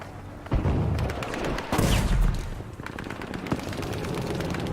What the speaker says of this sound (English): I assume this is a rifle caliber weapon, seems like a light machine gun